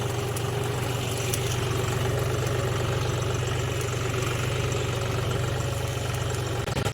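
A tractor engine runs steadily after fieldwork on a farm plot, a continuous low diesel rumble with vibration holding at an even, fairly loud level throughout, with no voices.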